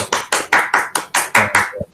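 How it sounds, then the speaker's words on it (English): Brief applause at the end of an academic seminar talk on reinforcement learning theory: about eight sharp claps in a steady rhythm, close and fairly loud, ending in a slightly softer final clap. "An applause."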